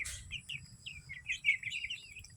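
Seven young chickens peep and chirp in a steady run of small high calls over a low background rumble, fairly close.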